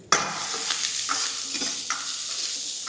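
Onions sizzle steadily in a hot pan while paneer 65 is cooked, a constant close frying hiss broken by a few sharp clicks and stirring knocks, with no one talking.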